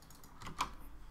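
A single faint, sharp computer mouse click rises from a quiet room.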